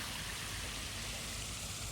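A small waterfall pours steadily near the sea, a dense, even rush of falling water that fills the whole clip without pause, close and constant, with no voices over it.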